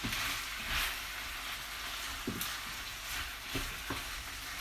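Pork and sausages frying in a pan for cassoulet, a loud dense sizzle with spitting crackles throughout and a few sharper pops as the meat is moved, with no talking.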